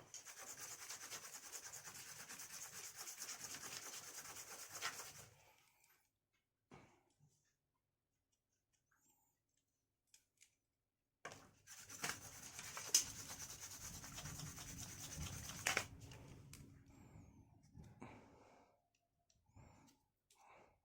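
Hand sanding of a broken aluminium alloy Naturehike tent frame gives steady rasping strokes for about five seconds, then quiet, then a second longer stretch of rubbing, close and moderately loud.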